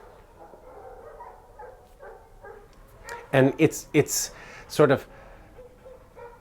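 Several dogs bark in bursts from pound kennels in a film scene, loud yaps and barks clustered in the second half over a low room hum, with a person talking quietly beneath.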